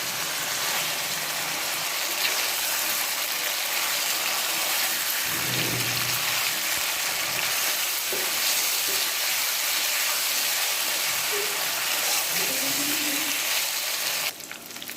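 Chicken pieces frying with turmeric, salt and spices in a pan for a Bengali chicken curry, giving a steady, dense sizzle throughout with occasional soft scrapes of stirring and no voices.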